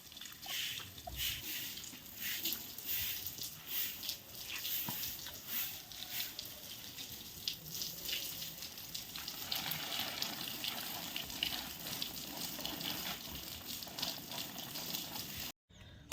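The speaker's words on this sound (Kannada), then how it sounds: "ಮಲ್ಲಿಗೆ ಗಿಡಕ್ಕೆಲ್ಲ ನೀರು ಬಿಟ್ಟು ಆಯಿತು" Running water poured over jasmine plants in a home garden, soaking the foliage and then the base of each plant; a steady, close rushing splash lasts throughout with no voices.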